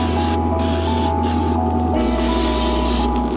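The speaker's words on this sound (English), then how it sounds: "So we'll take some butter spray." Butter spray hissing onto a spatchcocked chicken smoking in a Weber kettle, a steady close aerosol spray that continues throughout over a constant low hum.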